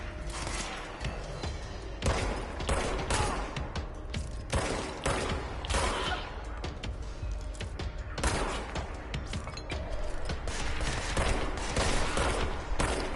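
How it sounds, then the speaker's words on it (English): Bursts of rapid gunfire in the game Control tear through wooden surfaces, with repeated sharp volleys, splintering crackles and mechanical clatter, loud and close over several seconds. "I love that I'm shooting through the wood. That's great effect there."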